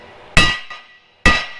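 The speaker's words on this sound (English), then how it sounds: "We're using a brass hammer so it doesn't ruin these." A brass hammer strikes a Jeep rear axle lug stud twice, each a sharp metallic knock with a short ringing decay, spaced about a second apart.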